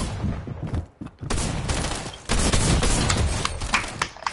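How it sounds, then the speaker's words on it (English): Shotgun blasts in a Fortnite match played on PS4, several loud close shots in quick irregular succession with brief gaps between bursts, amid busy game noise. "They fucking literally have shotguns."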